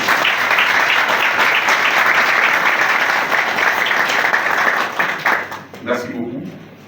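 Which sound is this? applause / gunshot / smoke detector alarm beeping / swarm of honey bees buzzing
applause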